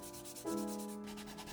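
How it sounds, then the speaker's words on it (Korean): Sandpaper rubbed by hand over a 3D-printed part in marble filament, smoothing layer lines in a quiet, continuous rasping stroke with no talk. "적층이 남아 있는 곳을 집중적으로 사포질을 하며 군데군데 남아 있는 곳 또한 사포질을 해줍니다."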